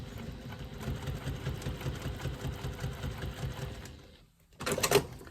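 A sewing machine stitches a bag strap, running as a steady rapid mechanical whir that fades out before a brief louder rustle at the end, with no talking.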